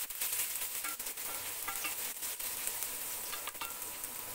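Chopped garlic and ginger sizzle steadily in hot oil in a pan while being stirred for a dhaba-style dal tadka. The frying is close, loud and continuous, with occasional scrapes and clicks from the stirring and no voices.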